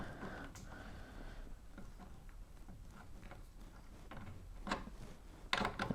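Small metal nuts on the mini playfield brackets of a Twilight Zone pinball machine are loosened with a wrench, giving faint scattered ticks, ratcheting clicks and scrapes, with a sharper clatter near the end.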